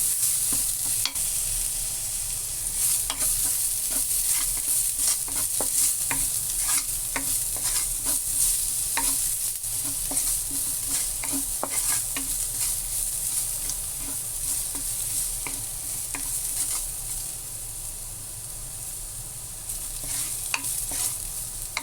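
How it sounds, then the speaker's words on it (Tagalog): Onion sizzling and frying in a pan for chicken curry, a steady hot crackle with frequent scraping stirs and clicks of a utensil, close and continuous with no talking. "Tapos isasabay natin tong sibuyas, onion."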